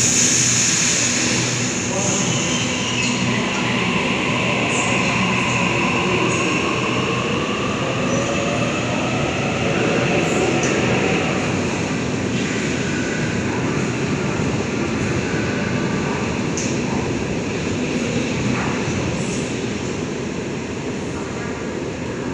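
A Sydney suburban train pulls out of platform 5 at Wynyard underground station, a loud continuous rumble of wheels and motors with rising whine and occasional squeal, an announcement voice audible at the start.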